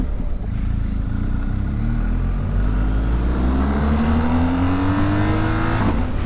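A BMW R1250GS motorcycle engine drones steadily while riding, its pitch climbing smoothly as the bike accelerates, close and loud with constant wind rush.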